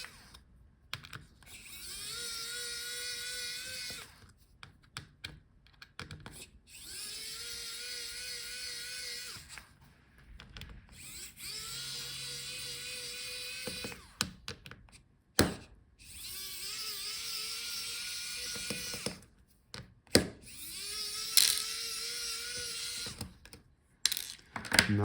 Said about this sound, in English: So let's unscrew the hinges for the screen, so they are out of the way.